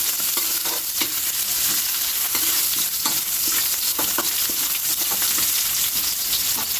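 Ginger, garlic, onion and tomato sautéing in a pan, a loud steady sizzle close up with scraping stirring strokes throughout, no talking.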